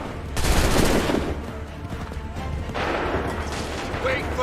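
Musket volley gunfire from a line of soldiers in Assassin's Creed III: a dense, roaring crackle of many shots bursts out loud and near, fades a little, then a second ragged volley swells and rolls on.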